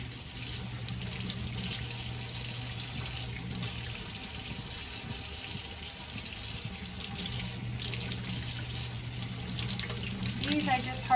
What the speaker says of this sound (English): I have tomatoes that I want to wash